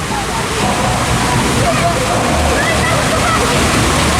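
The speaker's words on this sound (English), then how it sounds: "normally you'd stop in here and then there'd be a water effect that comes down" A water effect in a theme park ride cave at Chessington World of Adventures rushes steadily like a loud, close waterfall, a constant wash of splashing water with no pause.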